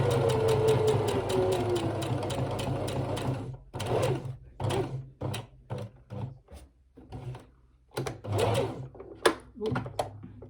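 A sewing machine runs in a steady close whirr while stitching a pocket on a polka dot doll dress, then gives way to short separate knocks and handling taps with pauses between.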